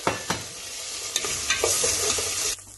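Finely chopped tomatoes sizzle and fry in a pan of hot oil while being stirred, with a few sharp clacks of a utensil over a steady crackling hiss that cuts off abruptly near the end.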